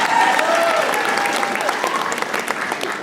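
Loud crowd applause and cheering fills a packed room at London Breed's election kickoff event at The Fillmore, a steady dense roar of clapping that holds throughout and fades slightly toward the end.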